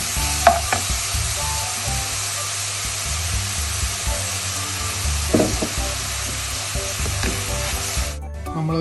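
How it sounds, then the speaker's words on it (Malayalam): Onions with fennel seeds and cardamom sizzle and fry in a pan for a Kerala-style chicken curry, with steady close frying hiss and occasional scrapes of a spoon stirring, ending abruptly. "സവോളയും പെരുംജീരകം, ഏലക്ക ഇളക്കിയിട്ടാണ് നമ്മൾ ചെറുതായിട്ടൊന്ന് ഇളക്കി കൊടുക്കുന്നത്."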